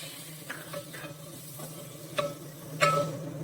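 Prawns sautéed in a pan for prawn biryani, stirred with a utensil: a soft sizzle runs underneath while several sharp scraping and clinking strokes land irregularly, close and moderately loud, with no voices.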